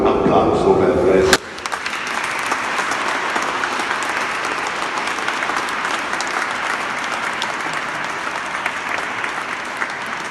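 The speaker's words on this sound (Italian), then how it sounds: "Vi chiedo ancora un altro applauso per" After a brief voice at the start, a crowd breaks into a long, dense round of applause that stays steady and fairly loud for several seconds.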